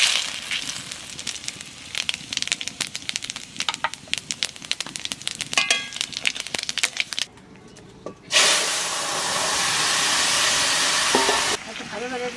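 Cumin seeds and bay leaf dropped into hot oil, a crackling, popping sizzle with sharp spits up close, breaking into a louder steady hiss partway through.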